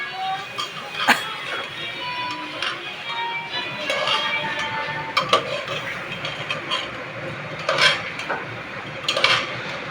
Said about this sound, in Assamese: আৰু পোলাওখিনি এনেকৈ খুব মিক্স কৰিব লাগিব